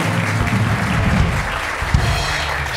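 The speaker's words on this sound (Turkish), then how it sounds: "Onu geldiğinde alkışlarız." A studio audience at a Turkish television talk show claps in steady, dense applause for about three seconds, close and loud, with no talking over it.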